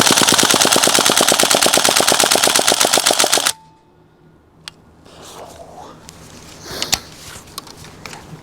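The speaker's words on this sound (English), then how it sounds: "Fully auto mag dumping." A GHK AKM V3 gas blowback airsoft rifle empties its magazine on full auto, a rapid, loud, evenly spaced burst of shots lasting about three and a half seconds before cutting off, followed by faint handling clicks.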